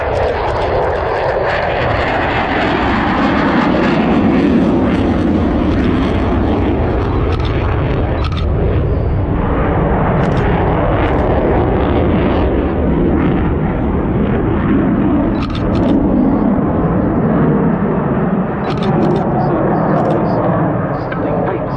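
A Dassault Rafale jet in a solo air show display at RAF Cosford roars loudly and continuously overhead, a broad, heavy rumble that swells and shifts as the fighter manoeuvres, with occasional crackling peaks.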